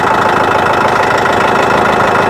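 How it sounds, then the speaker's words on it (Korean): A construction machine's engine idles close by, a loud, steady, even drone that holds without a break from start to finish. "일단 시동을 걸어 보겠습니다 자 시동을 거시고"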